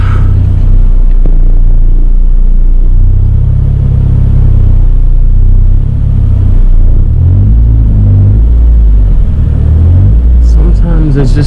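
A 2005 Toyota Corolla on a test drive after a clockspring replacement, its engine and road noise a loud, constant low rumble close to the mic, with someone speaking near the end.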